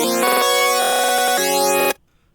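Bright lead synth melody layered with another melody in a trap beat, choppy stuttering notes and rising sweeps playing loud for about two seconds before cutting off abruptly into silence.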